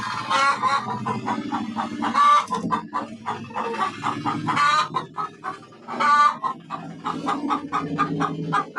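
Hens in a backyard coop cluck and squawk close by, a busy, overlapping chatter of several birds that carries on without pause throughout.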